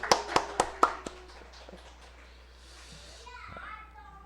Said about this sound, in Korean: 후 하고 박수